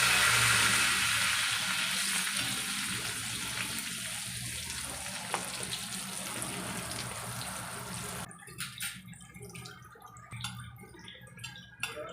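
Karli fish frying in a pan: a steady, fairly loud sizzle of hot oil that fades and turns into sparse crackles and pops toward the end.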